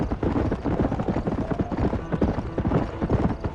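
A horse gallops at steady speed in the Western video game Red Dead Redemption, with quick, loud, close hoofbeats in a continuous rolling rhythm.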